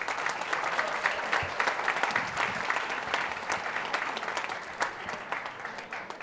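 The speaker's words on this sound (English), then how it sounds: "Can we please have a round of applause for our very talented students?" A room of diners at a school sports awards dinner in Bangkok gives a round of applause for student musicians, close, dense, steady clapping with a few sharper individual claps standing out, lasting the whole six seconds.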